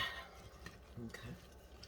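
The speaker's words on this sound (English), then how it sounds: "I'm going to mix these ingredients" Bell pepper salsa ingredients being mixed in a bowl give off soft, brief scraping and clinking sounds, faint and close, in a few scattered bursts.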